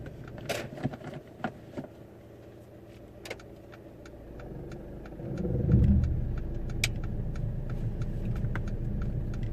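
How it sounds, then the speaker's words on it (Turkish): A car engine idles with scattered clicks, then swells into a louder, steady rumble as it revs and keeps running. "motor sesini dinlerken"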